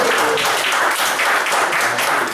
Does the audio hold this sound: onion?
no